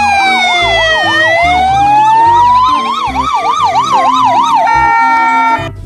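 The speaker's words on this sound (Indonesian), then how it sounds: "Di sini ada mobil ambulan. Coba nyalakan teman-teman." A loud toy ambulance siren wails alone, switching between a rapid warbling yelp and slower rising-falling tones, with an electronic, tinny quality throughout.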